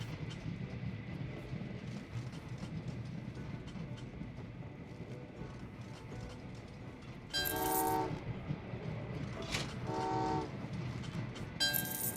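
Trains in the video game Train Valley 2 rumble steadily along the track, then sound two loud horn blasts and a short third toot near the end.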